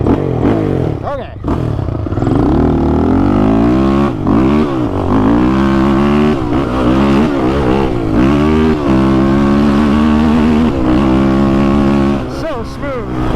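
Motorcycle fitted with XTravel BVS suspension being ridden, its engine droning steadily and close with shifting revs and a few brief dips, wind rushing throughout.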